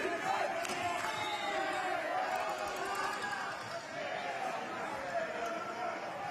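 Marine Corps supporters cheer loudly in a basketball arena during a tight game against Navy, a continuous wall of crowd roar and yelling with sneaker squeaks and thuds beneath it.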